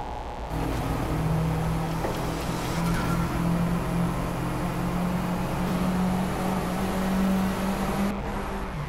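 A Honda Civic IX Type-R with a 2-litre 16V turbo engine in the Drive Club racing game on the Skino track in Norway, a sustained loud engine drone with steady pitch, alone without voices.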